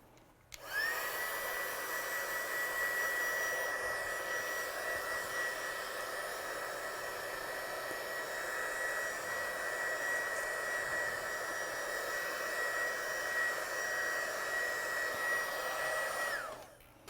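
A hair dryer blows steadily on wet watercolour paint on cardstock, a continuous loud whir with a high whine that starts and stops cleanly and runs for about sixteen seconds without talk.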